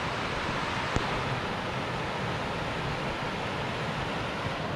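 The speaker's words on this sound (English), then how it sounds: "Nice little creek here." A small creek beside a trail in Idaho gives a steady, close rush of flowing water that holds an even level throughout, with one brief sharp tick near the start.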